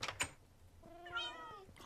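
Minecraft cats meowing in the game, a clear drawn-out meow with a rising and falling pitch in the middle of the clip, preceded by a couple of soft knocks.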